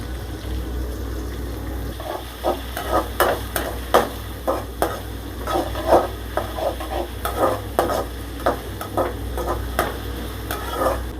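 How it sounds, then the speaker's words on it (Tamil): Steady sizzling of onions frying in hot oil, broken by rhythmic scraping and stirring strokes of a utensil in a pan. "இப்போது எண்ணெய் காஞ்ச உடனே வெங்காயம் போட்டுக்கலாம்"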